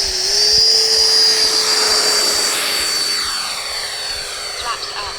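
A Taft RC Valkyrie 90mm EDF model jet, with takeoff flaps set, spools up and takes off: a loud, steady high-pitched ducted-fan whine with a tonal hum that slowly fades as the jet pulls away.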